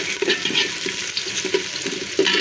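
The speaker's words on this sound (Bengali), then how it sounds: "এখন আমি ভালো করে ভেজে নেবো পেঁয়াজটা।" Onions sizzle in hot oil with chili, two bay leaves and two cardamom pods, a close, steady frying crackle with intermittent scraping stirs and louder spatters.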